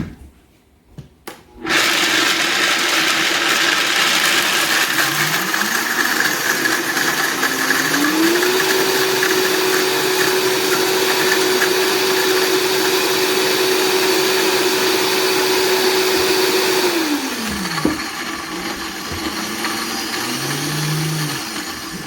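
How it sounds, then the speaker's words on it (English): A blender grinds whole almonds into almond meal, starting abruptly and running loud and steady for about fifteen seconds with a rising whine, then cutting off as the blades slow and the jar rattles. "I'm going to pour these in the blender and turn this into almond meal"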